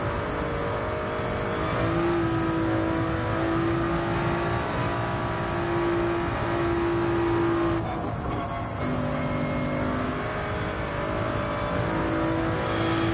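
A car engine in a racing simulator video game revs high and holds sustained, loud, whining tones that shift pitch, with a brief drop around the middle before climbing again.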